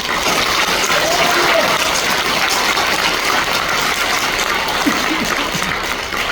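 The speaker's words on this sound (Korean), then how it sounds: "우리 다 함께 이양 박수 치면서 하나님께 영광의 박수 한번 드리겠습니다." A church congregation at a lay retreat's opening worship service at a resort claps together loudly and steadily in praise of God, a dense, close wash of hands that holds its level throughout, with a few voices faintly audible beneath it.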